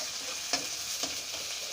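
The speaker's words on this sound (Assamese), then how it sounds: "এয়া মই কাটি লোৱা পিঁয়াজখিনি গৰম তেলত দি দিছোঁ" Sliced onions frying in hot oil, a continuous bright sizzle near at hand with two or three quick stirring scrapes, moderately quiet and free of talk.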